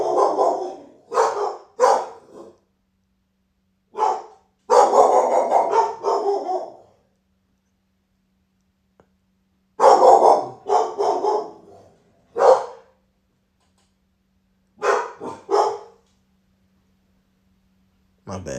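A dog barks in repeated bursts of two to four sharp barks with pauses between them. The barking is close and loud.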